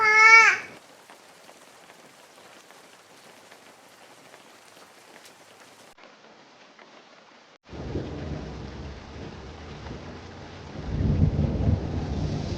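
Steady rain patters down, quiet at first then growing heavier and louder, with a rumble of thunder toward the end.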